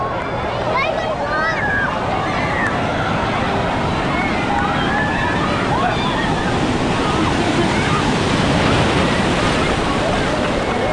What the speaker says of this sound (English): Big waves on the top.